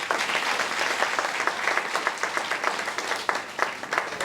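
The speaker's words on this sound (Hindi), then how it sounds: "जोरदार तालियां दर्ज कीजिए" Audience applauding the actors of a stage play, a dense sustained burst of many hands clapping, fairly close and loud, with no talk over it.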